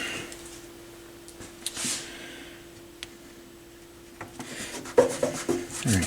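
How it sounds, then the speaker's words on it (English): Cloth rubs and wipes over a Sansui G3000 stereo receiver during cleaning, with soft scrubbing passes and a few light knocks, faint and close. "Alright, so I'm going to clean that off."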